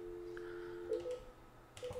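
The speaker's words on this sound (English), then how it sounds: "so I'm gonna attempt a call from my desk phone" A desk phone placing a call on a queuing test system, giving a steady low tone followed by short beeps and faint clicks at close range.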